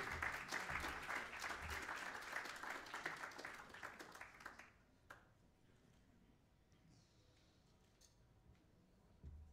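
Summit audience applauds the Prime Minister of Malta after a keynote, a full round of clapping for several seconds that thins out into quiet room tone with a few stray claps.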